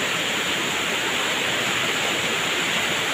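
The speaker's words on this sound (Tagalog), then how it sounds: "Hindi kami makatuloy guys kasi lalong lumakas yung ilog" A swollen river's strong current rushes in a steady, loud, broadband roar that fills the whole clip without a break, close and unvaried.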